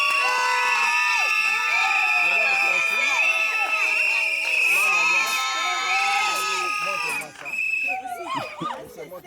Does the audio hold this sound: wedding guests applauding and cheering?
yes